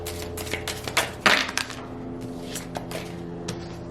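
Tarot cards being shuffled by hand, a run of quiet, irregular riffling taps and soft slaps, close and fairly faint with no talking.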